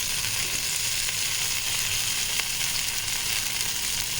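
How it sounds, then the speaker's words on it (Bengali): Chickpea tikki patties shallow frying in oil make a continuous, even crackling sizzle, close and steady with no voices. "ডিপ ফ্রাই করছি না, এগুলোকে শ্যালো ফ্রাই করছি"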